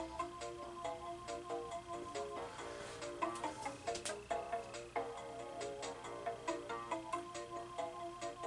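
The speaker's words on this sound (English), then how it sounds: "All right, there goes my phone." A mobile phone ringtone plays a repeating, bright electronic melody with ticking rhythmic pulses, steady and moderately loud throughout, during a Crash Bash gaming session.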